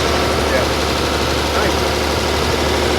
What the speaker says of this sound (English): we got to idle it up a little bit, let the motor warm up a little bit quicker